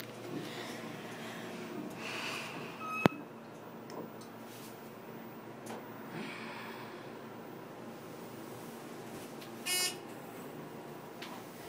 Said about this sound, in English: I like the beeps, Jay, the indicator.